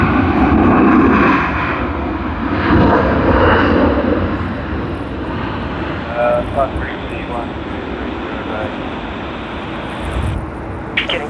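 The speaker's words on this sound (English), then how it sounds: "All Nippon Airways ANA on its Boeing 787-9 Dreamliner." All Nippon Airways Boeing 787-9 Dreamliner jet at an airport, its engine roar loud and steady throughout with broadband rumble, while a person talks over it.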